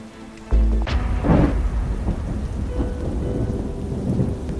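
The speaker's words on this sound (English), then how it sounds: "The rain became much heavier now, and the streets too began to flood." Heavy rain pours steadily as a loud thunderclap breaks in near the start, with further rumbling beneath the downpour in an animated horror story scene.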